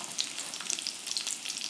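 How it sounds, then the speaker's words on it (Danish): Chicken nuggets fry in rapeseed oil in a pan, a faint, steady sizzle with small crackles and pops throughout. "så skal de bare steges"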